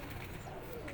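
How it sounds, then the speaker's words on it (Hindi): Pigeons, a mother and daughter pair of crossbred fliers, coo softly and continuously against a low, murmuring background, the calls faint and steady through the moment. "बड़ी अच्छी कबूतर है माशाल्लाह।"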